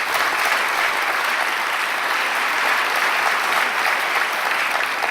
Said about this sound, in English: I want you to applaud them and to say thanks to International